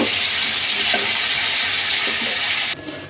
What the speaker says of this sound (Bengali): একটু হলুদ আর নুন দিয়ে আলুগুলো লাল লাল করে ভাজি করে নেব